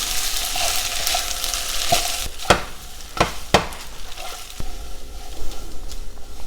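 Fettuccine being tossed into shrimp scampi in a hot pan, with a steady sizzle and a few sharp utensil scrapes and clicks against the pan.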